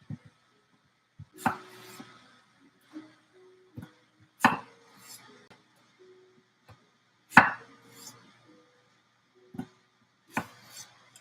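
Sharp knife chops strike a cutting board one at a time with irregular pauses between them, close and clear, while vegetable pieces are trimmed off in an otherwise quiet kitchen.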